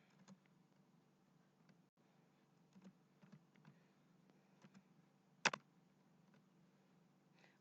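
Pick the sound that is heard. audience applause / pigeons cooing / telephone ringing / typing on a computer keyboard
typing on a computer keyboard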